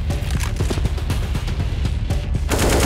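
Rapid gunfire in Counter-Strike during a pro match at IEM Katowice 2022, loud and dense, with repeated sharp shots in bursts over about three seconds and the clatter rising toward the end.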